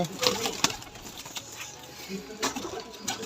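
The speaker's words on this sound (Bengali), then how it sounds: "দেখুন এখানে পায়রাগুলোকে খাওয়াচ্ছে, এই মুহূর্তে ফিড করছে" Pigeons being fed inside a large farm colony, with soft coos and wing flaps at close range, scattered thumps and movement against a quiet background.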